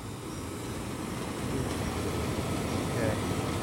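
A central air conditioner's outdoor unit with standard fan blades runs at night, giving off a steady, moderately close broadband whir and hum that swells slightly partway through.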